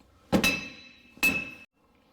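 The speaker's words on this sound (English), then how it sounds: "you're just going to try to tap it right here and see if it comes off" Two sharp metallic hammer strikes on a Nissan Armada 4x4 steering knuckle, each ringing briefly with a high clink, spaced about a second apart, close and loud, driving the worn wheel bearing out.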